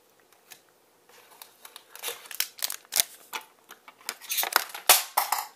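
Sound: scissors dropped

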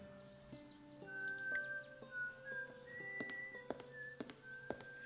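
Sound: character whistling a tune in the video game Broken Sword 5

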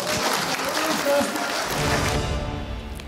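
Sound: applause

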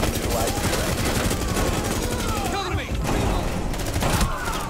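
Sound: shotgun gunfire in Rainbow Six Siege video game

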